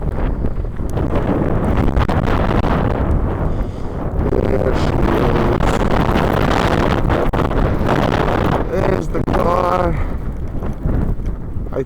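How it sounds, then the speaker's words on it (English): Strong blizzard wind buffets the microphone in a steady, loud roar throughout, with brief tonal whines near the end. "Oh, it's so windy."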